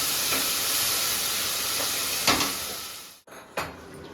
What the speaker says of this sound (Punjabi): ਹੁਣ ਇਹਨੂੰ ਆਪਾਂ ਵਧੀਆ ਤਰੀਕੇ ਨਾਲ ਭੁੰਨ ਲੈਣਾ